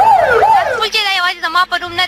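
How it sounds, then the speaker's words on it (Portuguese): A wailing siren in Pakistan sweeps up and down in loud, rising and falling tones, then shifts to a faster warbling pattern that continues throughout. "A última vez que Malala Yousafzai tinha ouvido as sirenes paquistanesas foi em 2012."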